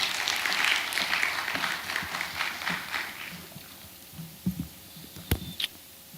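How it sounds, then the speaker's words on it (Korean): A church congregation claps to welcome two speakers to the front at a Saturday service, a dense patter of many hands that thins out over several seconds, leaving a few scattered claps and knocks near the end. "이제 두 분이 나오실 때 우리 뜨겁게 박수로 맞이하도록 하겠습니다"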